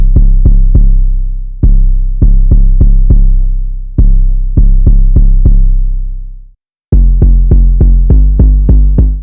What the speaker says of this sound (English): I actually made a secondary 808 pattern for the verse